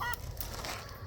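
Ducks kept with chickens on a small farm in cold winter weather give a short, faint honking call against a steady background rush.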